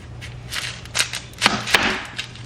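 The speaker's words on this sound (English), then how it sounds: "I'm just chopping up an onion." A knife taps against a cutting board, chopping a large white onion in a few irregular chops, close by and fairly soft, over a low background hum.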